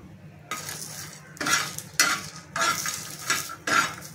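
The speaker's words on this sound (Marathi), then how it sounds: "त्याच्यामध्ये मी लसूण टाकून घेते आणि बारीक चिरून घेतलेलं आलं आहे ते पण मी त्याच्यात भाजून घेते" Garlic, finely chopped ginger and green chillies are roasted in a pan for misal, with repeated scraping and stirring strokes of a spatula over a soft sizzle, several bursts close by and no talking.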